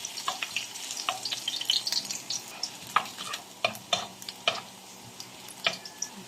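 Ginger frying in hot oil gives a steady, crackling sizzle up close, with repeated light scrapes and taps of a stirring utensil against the pan and no voices.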